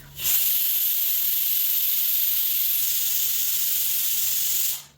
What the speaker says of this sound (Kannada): ಕುಕ್ಕರ್ ವಿಸಿಲ್ಗೆ ಇಕ್ಕಿದ್ದೀನಿ